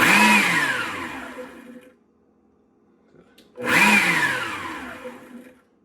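A Cooks tabletop stand mixer runs in two loud pulses, each starting with a whirring motor burst that winds down, separated by a couple of seconds of near silence.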